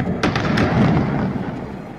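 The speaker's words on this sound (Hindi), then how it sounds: "धमाके की आवाज इतनी भयानक थी कि कई किलोमीटर के दायरे तक उसकी दहशत" Heavy thumping blasts from an explosion at a firecracker factory in Harda, Madhya Pradesh, with a few sharp booms followed by a loud, rumbling wash of sound that slowly fades.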